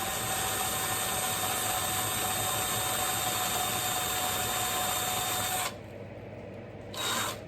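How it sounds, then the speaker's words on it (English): A power drill bores through a tin toy car body with a steady high whine for several seconds. It stops abruptly, leaving a quieter hum, then gives a brief burst near the end. "See how nice and straight the drill hole is now? Because it has a pilot hole."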